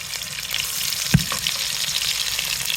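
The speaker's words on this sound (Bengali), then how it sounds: "মাছ ভাজা তেলে এবার মশলাগুলো দিয়ে দিলাম।" Spices sizzle in the oil left from frying prawns, a steady close frying hiss with one sharp knock of a spoon against the pan partway through.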